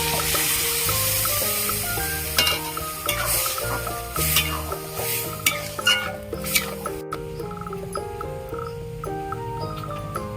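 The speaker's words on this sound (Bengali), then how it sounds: "এবার আমি সিদ্ধ করে রাখা ডাল ঢেলে দেবো" Boiled lentils are poured into a pan of fried spices for a vegetarian Bengali dal, and a close, bright sizzle and stirring rise over soft background music that carries throughout.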